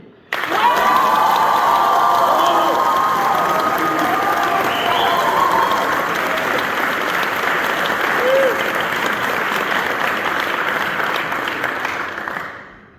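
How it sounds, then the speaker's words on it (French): Sustained, loud applause from a large school crowd, with scattered cheers and children's shouts mixed in, continuing for over ten seconds before fading out. "Applaudissons-les."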